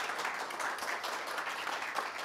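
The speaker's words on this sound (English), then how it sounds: "Please give Adam a round of applause." Steady audience applause for a speaker at a summit in Houston, an even wash of many hands clapping at moderate distance with no talk over it.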